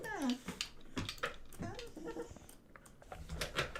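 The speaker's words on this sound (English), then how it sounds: "What do you want, dog? I think I might have to BRB for just a second, guys. My dog wants to go out." A pet dog whines to be let outside, giving short rising and falling whimpers close by, interleaved with a person talking.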